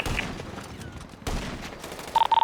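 Gunfire in a first-person shooter game crackles in dense bursts, with a rapid volley near the end sounding like automatic fire, heard against a busy game background.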